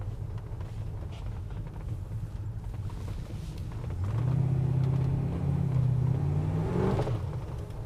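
A left-hand-drive classic car heard from inside while driving: a steady low engine rumble and road drone that swells louder midway as it pulls harder, with no talking.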